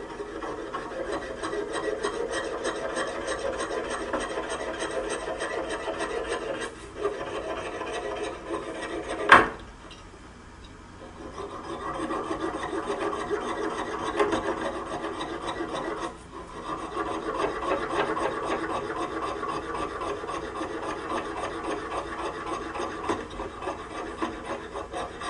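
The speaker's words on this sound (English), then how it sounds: "we simply cut out the die." Cutting a dental stone die out of a pinned model with a hand saw, a steady close rasping scrape that stops briefly near the middle after a sharp click, then resumes and carries on to the end.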